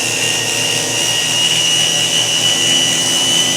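A micro rotary burnisher runs at high speed against a sand-cast piece, giving a loud, steady high-pitched whine that holds throughout without a break.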